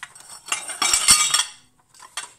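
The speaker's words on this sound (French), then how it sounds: "donc on frotte et on fait la vaisselle comme ça" Dishes are scrubbed with an old brush at a home sink, giving close, bright clinks and scraping clatter of cutlery and crockery in uneven bursts, then fading to a couple of faint taps.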